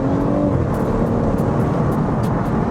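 A BMW M140i engine in Sport Plus mode holds a steady, loud drone with a low growl, heard from inside the car with no voices over it.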